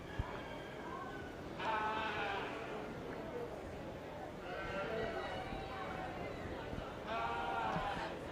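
White-faced ewes bleat in an arena at a 4-H/FFA sheep show. The faint calls come in a few separate bursts under a hum of crowd noise and talking.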